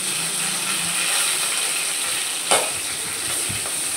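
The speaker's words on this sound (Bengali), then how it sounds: "কাঁচা লঙ্কাগুলো সরষের তেলে প্রথমে আমি ভেজে নিব।" Green chillies and nigella seeds frying in mustard oil, a loud continuous close sizzle and crackle with one sharp clack of a utensil against the pan partway through, no voices.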